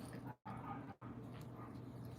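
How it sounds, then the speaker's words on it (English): Several dogs yip and whimper faintly outside during a crochet session, the sounds distant and very quiet, briefly cut by two short gaps. "You hear my dogs outside trying to grab the end there."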